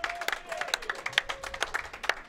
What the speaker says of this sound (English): First ever standing ovation for someone on their way to the booth.